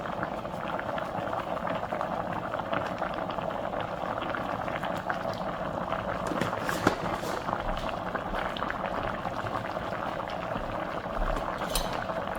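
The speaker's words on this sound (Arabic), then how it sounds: "هنحط شويه مرق الدجاج" Chicken broth is poured into a pot of kebab stewing in brown sauce, giving a steady, close liquid rush and bubbling that runs without a break and with no voices.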